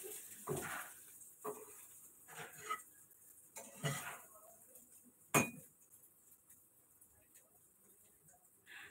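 Utensils and pots clink in a home kitchen during cooking: scattered light metallic knocks and clatter, a few sharper clanks, with quiet gaps and faint background sounds between.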